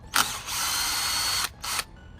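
A power drill with a 10 millimeter bit spins loudly in a single long burst of whirring, then stops briefly and gives a second short burst, close to the microphone in an LS engine block repair.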